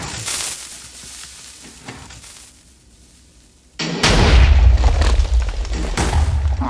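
A TNT cannon fires in Minecraft, built high in the sky: a sudden loud booming blast erupts partway through and rumbles on as a dense roar after a quieter stretch of game ambience.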